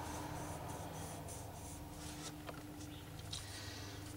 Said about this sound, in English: And then I draw a line.